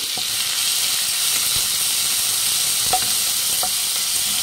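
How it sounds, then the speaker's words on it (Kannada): Onions fry with spices in oil for chicken masala, a steady loud sizzling hiss throughout, broken by a few light clicks of stirring. "ನೋಡಿ, ಈರುಳ್ಳಿ ಚೆನ್ನಾಗಿ ಫ್ರೈ ಆಗಿದೆ"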